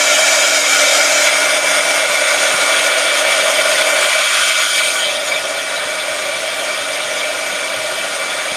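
A hair dryer blows steadily and loudly at close range over gel pen artwork in a Bible journal, one unbroken whoosh that eases slightly partway through, with no talking.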